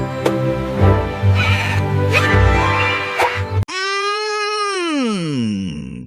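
Animated goat sounds for a kids' farm animal lesson: a cartoonish character voice and effects give way to a loud, drawn-out wavering bleat that rises and then slides down in pitch.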